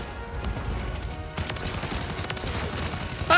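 Rapid bursts of automatic gunfire from the Call of Duty MW3 video game, a WSP Swarm submachine gun build, dense overlapping shots firing continuously and loudly throughout with no pauses.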